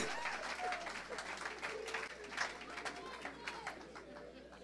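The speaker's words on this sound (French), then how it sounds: "Clap clap for the Lord" A church congregation claps for the Lord during a service, with scattered rapid applause rising and falling at a moderate distance beneath murmured crowd chatter and voices.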